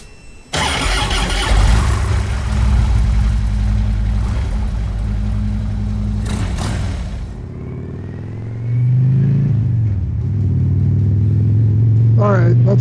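A Harley-Davidson Road Glide motorcycle engine starts with a sudden, loud roar, then idles in a deep, heavy rumble. It revs up again as it pulls away on a test ride, recorded close by, with brief speech.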